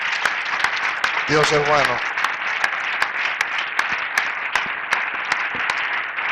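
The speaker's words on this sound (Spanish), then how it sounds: "Denle un aplauso a Jesús, mi hermano." A church congregation breaks into steady applause, many hands clapping at moderate distance, while someone speaks briefly over it early on.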